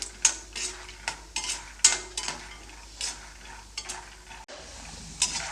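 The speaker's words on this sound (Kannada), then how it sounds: "ಇವಾಗ ಶೇಂಗಾ ಬೀಜನ ಒಂದು ಸ್ವಲ್ಪ ಫ್ರೈ ಮಾಡ್ಕೊಳ್ತೀನಿ" Peanuts being stir-fried in a pan for poha mixture, heard as repeated scraping stirs and light clinks of a utensil over a faint steady sizzle, close and fairly quiet.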